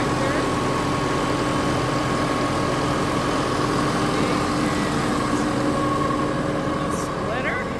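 A tractor engine powering a homemade firewood splitter idles steadily nearby, a constant loud low drone with a faint tonal whine, briefly overlaid by a light metallic squeak near the end.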